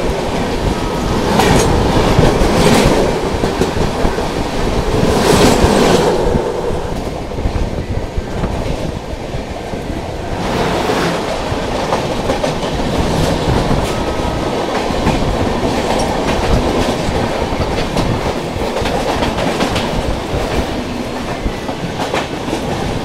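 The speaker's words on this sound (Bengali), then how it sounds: "এটা গেল হচ্ছে তেলেঙ্গানা এক্সপ্রেস, হায়দ্রাবাদ থেকে নতুন দিল্লি।" The Telangana Express, Hyderabad to New Delhi, rolls past continuously, with steady loud rumble and rhythmic clickety-clack of wagon wheels over rail joints throughout.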